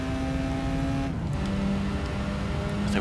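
Racing cars in Gran Turismo 3, a BMW among them, drone steadily with high engine whine that dips in pitch mid-way as one shifts and settles, continuous and fairly close, no talk.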